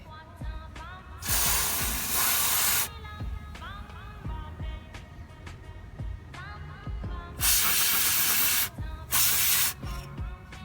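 Ultra Crack penetrating lubricant sprayed onto suspension bolts while fitting camber arms on a Nissan 300ZX Z32, heard as several sharp aerosol hisses of a second or two each, set among workshop clinks and handling noises.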